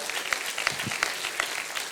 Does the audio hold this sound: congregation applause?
yes